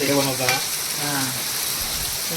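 Crab frying in a hot pan at an outdoor village cook-up, a loud steady sizzle with bursts of crackling and stirring noise.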